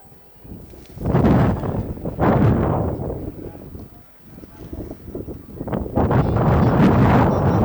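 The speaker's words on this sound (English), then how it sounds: "Wind continues to blow out toward the left and is gusty." Gusty wind buffets the microphone at an outdoor college softball field, surging in loud rumbling bursts that rise, ease off and return, with no clear speech.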